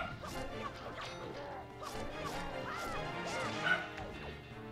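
A dog barks at a neighbor arriving home, repeated rough barks and yips heard indoors at moderate distance over a steady background of video game music.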